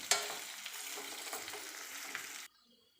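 Jowar muthiya are tossed and stirred in oil in a pan with a close, bright sizzle and a spatula scrape, stopping abruptly after about two and a half seconds.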